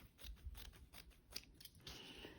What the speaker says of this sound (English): So I'm gonna just cut that one off nice and even.